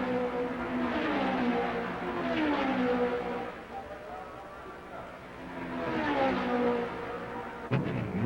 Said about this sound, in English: With Clark in the pits, A.J. Foyt has captured first place and leads the Scot by a few seconds.